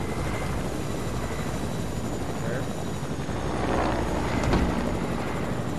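A helicopter in a video game flies close by, its continuous rotor and engine roar steady and loud throughout, rising slightly near the end.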